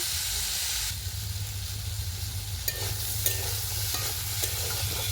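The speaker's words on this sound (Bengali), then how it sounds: "আলুগুলোকে একটু লাল লাল করে ভেজে নেব।" Potatoes frying in a wok of oil while being stirred, a steady sizzling hiss throughout with occasional clinks and scrapes of a utensil, close and continuous with no talk.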